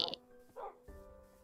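Summoned Cerberus dogs in a video game yip and bark in short bursts, a sharp bark at the start and a couple of quieter yelps after, fairly faint amid game sounds and a voice talking.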